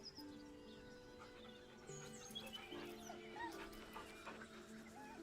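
A dog in Baldur's Gate 3 whimpers nervously in a few soft, high whining cries over a steady game ambience with faint bird-like chirps and music.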